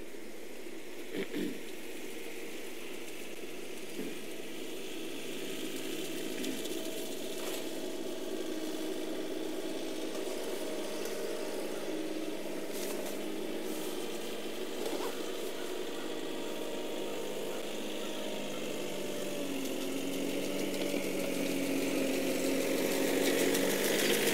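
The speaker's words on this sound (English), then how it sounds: "grounds crew fella with his tractor clearing the sidewalks" A grounds crew tractor clearing campus sidewalks drones steadily at a moderate distance, its engine rising slightly toward the end with faint background noise and no talk.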